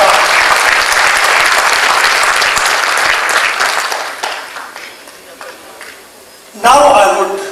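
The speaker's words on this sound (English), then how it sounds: "A genuine round of applause for all of these gentlemen who honored the past." Audience applause fills a fundraising dinner for a Gandhi memorial, dense clapping that fades over several seconds into quiet before a short burst of sound returns near the end.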